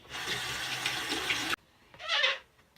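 Tap water runs steadily onto a makeup sponge, a broad rushing stream that cuts off abruptly, followed by a second short, softer burst of water a moment later.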